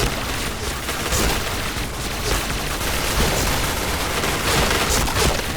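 Sustained automatic fire from an MSBS rifle in an online first-person shooter match, dense overlapping shots and booms rattling continuously for the whole stretch, loud and close with no pauses.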